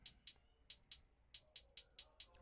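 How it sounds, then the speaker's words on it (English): Crisp hi-hats in a hip-hop beat built in FL Studio tick out a sparse, evenly spaced pattern of short bright hits, playing alone with a gap before quicker repeats. "Hi-hats sound like this."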